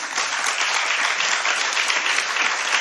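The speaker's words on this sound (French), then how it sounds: "Applaudissements nourris." Sustained applause from a conference audience at a panel on workplace health and safety, a steady dense wash of clapping that stays at an even, fairly loud level throughout with no speech over it.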